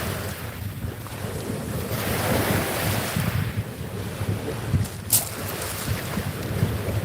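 Ocean waves wash onto a shore in a steady, continuous roar with gentle surges, mixed with wind buffeting the microphone; no voices.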